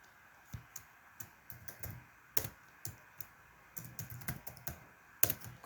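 Fingers tap on a computer keyboard in irregular bursts of crisp, close clicks with short pauses, several louder key strikes standing out, no voices.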